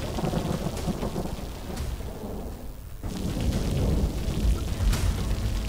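Heavy rain pours steadily during flooding in Baloda Bazar, with deep rolls of thunder rumbling through the downpour; a loud, dense wash of water sound with no voices.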